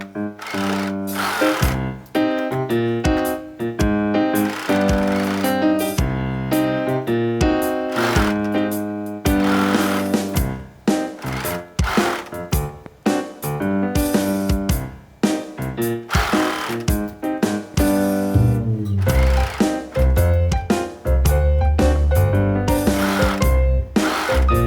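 Sewing machine stitching the neckline of a sheer-fabric McCall's 7194 shirt, its rhythmic mechanical whir running in bursts that speed up and pause, close and steady with no talk.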